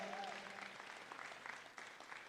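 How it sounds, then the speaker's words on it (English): Spectators at a national junior Brahman cattle show applaud the young exhibitors, a sustained, fairly distant round of clapping, faint overall, with a brief voice at the start. "let's give these kids a round of applause"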